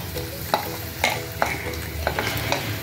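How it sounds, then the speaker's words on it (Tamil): Asafoetida frying in hot oil for an idli and dosa spice powder, a steady sizzle with a handful of sharp stirring clinks spaced about half a second apart, close and fairly loud, with no talk. "இந்த எண்ணெயை ஊற்றி எண்ணெய்க்குள்ளே இந்த பெருங்காயத்தை போட்டுக்கலாம்."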